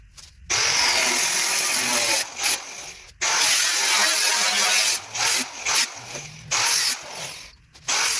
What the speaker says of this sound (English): So I'll drill the rivets, then use this to mutilate the rest of it.